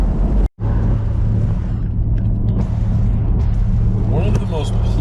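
Truck engine of a delivery rig hauling a 1964 Corvette hardtop, a steady low rumble drones continuously after a brief cutout near the start, with talk over it.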